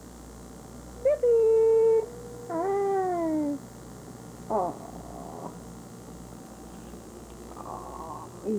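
A kitten gives two drawn-out, wavering meows close by, followed by a few shorter squeaky mews and a quiet purr, with a brief human murmur in between.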